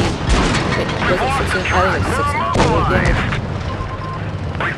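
Tank cannon fire from the Inferno tank in World of Tanks Blitz, heard as a few heavy booms over a dense battle rumble, loud and close, while someone talks throughout.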